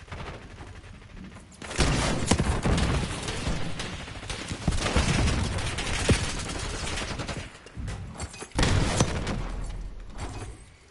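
Gunfire in Black Ops 6 rips out in dense, rapid automatic bursts, loud and close, with short pauses between volleys and brief quieter gaps before firing resumes.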